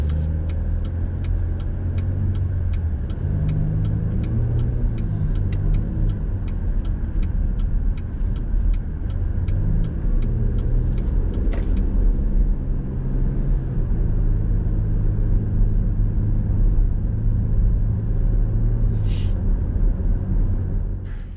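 A car cruises along Shepherd of the Hills Expressway in Branson, Missouri, heard from inside as a steady low road rumble with engine tone shifting through gear changes, a faint repeating tick above it throughout.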